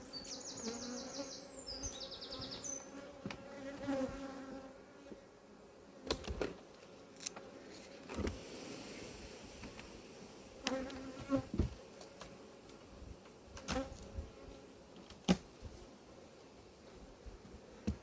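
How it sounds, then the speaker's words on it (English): A constant droning buzz of many honey bees fills the air close by as an apiary hive's top box is opened, with scattered knocks and rustles from handling the hive. "Lots of bees in that top box"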